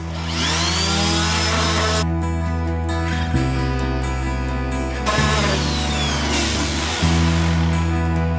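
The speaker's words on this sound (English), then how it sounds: "this unit I've just finished sanding it all over" Power sanding of a wooden guitar cabinet: a continuous loud whirring grind with a few short breaks and shifts as the sander moves across the wood, close up and without speech.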